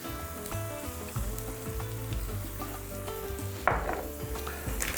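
Onion frying in a covered pan, seasoned with salt, sugar and baking soda, gives a quiet steady sizzle with soft scraping and clinking of utensils, a brief louder clatter near the middle.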